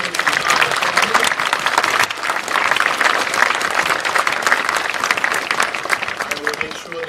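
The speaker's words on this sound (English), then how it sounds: "So let's have another round of applause for him and his entire family." A crowd applauds steadily at a high school graduation ceremony, dense clapping filling the whole stretch at a fairly loud level.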